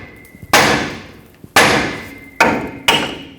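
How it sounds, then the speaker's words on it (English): Four heavy hammer blows strike the steering knuckle of a 2011-2016 Ford F-350 to free a tie rod stud, each a loud ringing clang that decays before the next, spaced irregularly and close up. "I'm going to hammer the knuckle to try to break this free"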